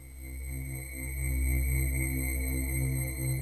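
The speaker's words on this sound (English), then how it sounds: "Quite a creepy pad, as you would imagine with a name like The Shining" A sustained, eerie synth pad from a Reaktor synth holds steady tones with a slow swell, dark and unsettling, with no voices.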